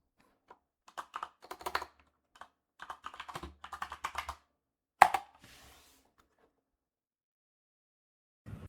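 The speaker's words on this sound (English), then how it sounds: "I couldn't hear you over your typing." Bursts of quick keyboard typing clatter in short runs, followed by a single sharp key tap and a pause before a little more typing.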